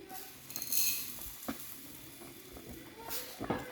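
Sugar is stirred into simmering milk vermicelli in a pot, soft sizzling under a few close scraping strokes of a spoon, quiet and intermittent, with a faint voice nearby.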